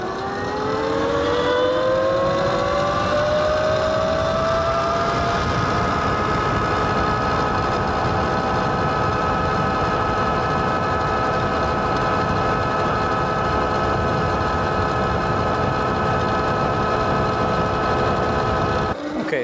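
Tuttio Soleil 01 electric scooter converted to 72V, accelerating at full power: a steady, loud motor whine with rising tonal harmonics that climb over the first five seconds and then hold level for the rest of the run, with wind rush beneath.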